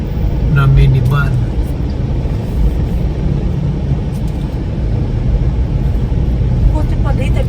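A regular-size Suzuki minivan rolls past on a road in Bulacan, a loud steady engine rumble and tyre roar that holds throughout, with voices talking over it.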